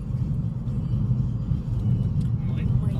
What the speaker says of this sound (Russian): Мы едем сейчас по вечерней улице.